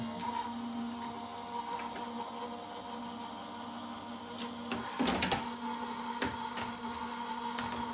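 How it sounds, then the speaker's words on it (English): Die cutting machine pressing a handmade Christmas card, a low steady mechanical hum with a few sharp clunks and rattles midway as the plates pass through, fairly quiet and without talk. "that's going to get run through our die cutting machine"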